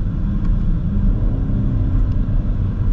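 A 2022 BMW X6 M50i V8 engine and exhaust in sport mode, a steady, loud, deep rumble heard up close with no talking.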